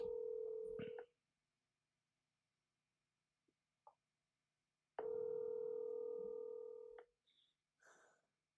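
A telephone rings out on an outgoing call, two long ringback tones roughly four seconds apart, each about two seconds, with brief faint clicks between and after them.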